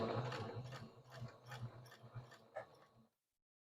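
A sewing machine stitches straight across a key fob wristlet, a quick rapid run of mechanical clicks and whirring that stops abruptly, followed by silence.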